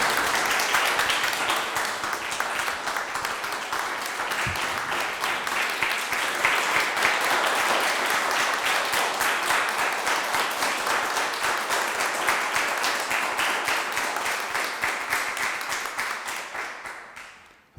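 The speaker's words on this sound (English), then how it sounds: "So one big applause once again for our third prize winners of Commitment Award 2020." Audience applause at the Commitment Award 2020 ceremony for prize winners, dense sustained clapping from a crowd that holds steady and then tapers off at the end.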